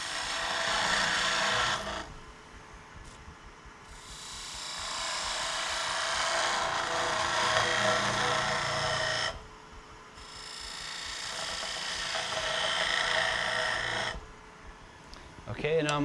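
Wood lathe cutting a slight chamfer on a handle, a continuous scraping, rasping cut with a spinning hum that pauses briefly between a few passes.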